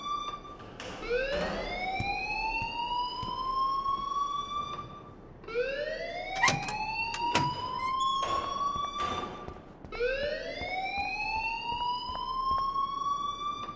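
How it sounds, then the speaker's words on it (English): An in-game alarm in Life is Strange rises in repeated long sweeping wails, three upward swoops that each climb and hold, loud and alone, with no talk. "please turn off that alarm since that's your job"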